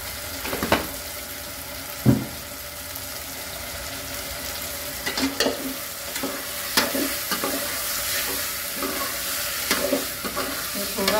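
Mutton rassa masala sautéed in a pan, a continuous sizzle broken by repeated scraping stirs and occasional clanks of the spoon at an irregular pace.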